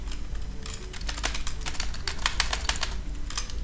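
Computer keyboard typing while configuring network switch settings, a steady run of quick, irregular key clicks with a few heavier strokes, close and clear with no speech.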